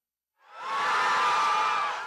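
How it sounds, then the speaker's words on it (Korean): A Saudi delegation in a packed assembly hall erupts in a roaring cheer with shouts and whoops the instant the Expo 2030 host vote result is announced in Paris, rising from silence to a sustained, dense crowd roar. "투표 결과가 나오자 사우디 측의 함성이 터져 나옵니다."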